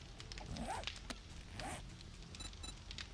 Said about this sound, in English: Did I just hear a dog barking?